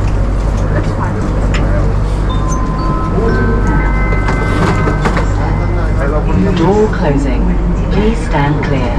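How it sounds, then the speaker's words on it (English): An airport train in Dubai departs, its steady loud rumble and rolling hum running throughout, with an onboard announcement tone and people talking over it nearby. "Please hold on. Train is departing."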